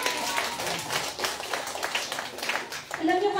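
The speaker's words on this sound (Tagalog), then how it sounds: "Pumalakpak ako." A congregation at a church anniversary service claps in scattered uneven bursts while a voice speaks over it.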